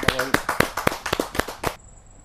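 Audience applause at a televised kavi sammelan poets' gathering: a brisk burst of rhythmic claps that begins over a brief voice and then stops abruptly, leaving quiet room tone.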